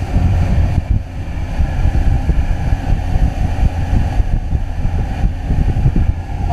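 A 2000 Jaws Lorequin 24 center console boat cruises at about 3,000 RPM and 36 mph, its engine drone blending with heavy wind buffeting and rushing water, loud and continuous throughout.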